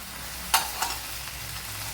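Two tomatoes dropped into a hot frying pan for a vegetable curry, giving two quick soft impacts followed by a steady close sizzle of frying.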